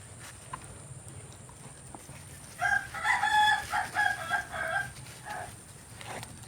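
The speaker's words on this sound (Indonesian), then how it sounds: "Ayam berkokok, kadang ada kambing, ayam kalkun, burung, itu asli ya" A rooster crows several times in a row at moderate distance in an outdoor garden setting, rising above a steady low rural background hum with faint other birds.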